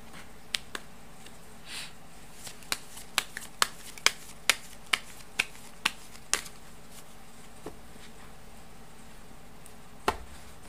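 Tarot cards are shuffled for a daily Thai horoscope reading, giving a series of sharp, crisp card snaps in a fairly regular rhythm, close and clear, with a few scattered flicks before and after.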